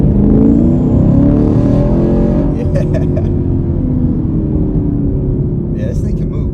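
A 2023 Camaro LT1 pulls hard through first and into second gear, its loud V8 rumble rising in pitch and then settling after the shift, heard close from inside the cabin.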